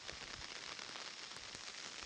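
Steady light rain with wind patters on surfaces over a rice field, a soft continuous hiss with scattered faint drops, no voices.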